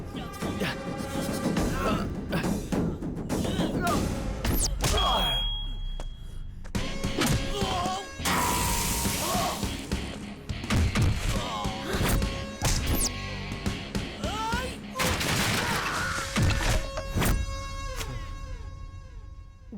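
Heavy thuds and crashing blows land repeatedly as a man is beaten in a staged movie fight, loud and dense, with shouting voices and music mixed in.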